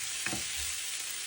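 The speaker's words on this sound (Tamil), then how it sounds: "அதையும் கூட சேர்த்து வதக்குவோம்." Onions, green chilies and curry leaves sauté in a pan with a steady, bright hiss of frying and a brief stir, no voices present.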